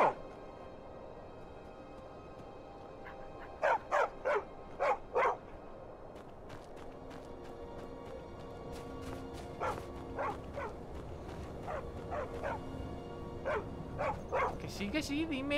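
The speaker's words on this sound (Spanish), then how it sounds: "¿Qué pasa, perro?" Dog in the video game Skyrim giving a quick cluster of barks, then scattered softer barks and yips over a steady game ambience, moderately close, with a voice speaking at times.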